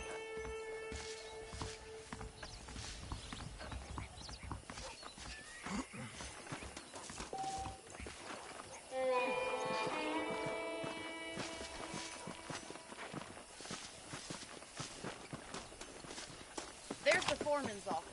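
Saddled horses in the Western video game Red Dead Redemption clop along at a walking pace, hooves heard faintly among game ambience, with a short whinny and a voice speaking over parts of it.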